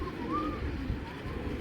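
Pigeons, an uncommon pair kept by a fancier, give soft low coos close by over a rumbling, noisy background with no voices.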